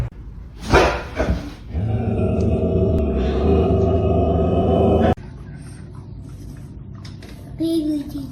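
Dog barking, a few loud yips and barks near the start and again briefly at the end, with a voice and other speech around them indoors.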